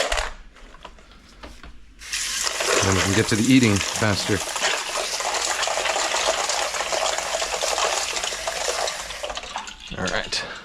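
A kitchen tap gushes loudly to fill a water bath for chilling blanched asparagus, a strong steady rush that starts abruptly and runs for several seconds, with someone talking briefly over the start.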